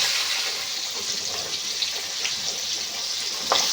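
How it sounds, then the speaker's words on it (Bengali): Fish heads frying in a pan of oil, a steady close hiss and crackle with faint pops throughout, no voices. "মাথা দুটো একটু ভালো করে ভাজতে হবে"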